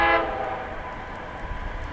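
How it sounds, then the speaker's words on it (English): A CSX freight train comes by on a line track, its horn sounding in a short loud blast at the very start before giving way to a steady rumble of rolling cars. "Hey, here comes a train."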